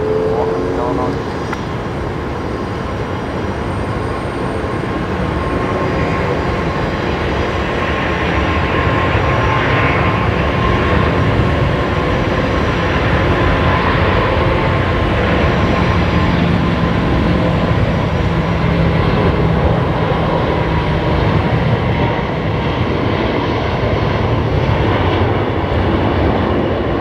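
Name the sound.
airplane landing at Brisbane Airport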